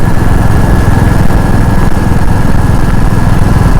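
A Royal Enfield motorcycle engine drones loudly and steadily while riding on the road, a dense low rumble with constant throttle and no voices.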